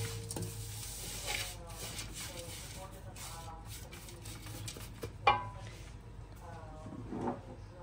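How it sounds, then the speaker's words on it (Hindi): Spices and coconut powder being roasted and stirred in a pan, a soft sizzle with scraping strokes and one sharp knock, while someone talks over it throughout. "अब ये इन तीनों चीज़ों को अच्छे तरीके से हम थोड़ी देर के लिए भूनेंगे"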